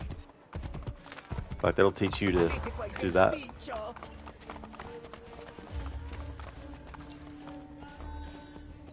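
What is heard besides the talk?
horse galloping in a video game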